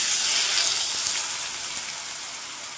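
Steady, close hiss of green chillies and chopped potato frying in hot oil, a continuous bright sizzle that fades slightly over time with no talking.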